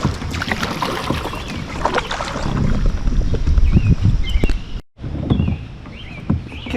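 An Osprey kayak paddled across a lake at Cunningham Falls State Park, with rhythmic paddle splashes and water sloshing against the hull close by, over light wind, pausing briefly before the strokes resume.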